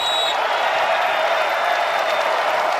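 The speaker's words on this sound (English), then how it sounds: "Great crowd, phenomenal atmosphere." A wrestling arena crowd in Lincoln cheers and applauds in a dense, steady roar that fills the space throughout, with no single voice standing out.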